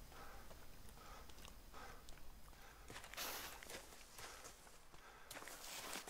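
Footsteps walk steadily across a surface in a video game, close and fairly quiet, with no talking.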